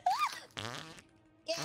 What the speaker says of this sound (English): My dead body's farting.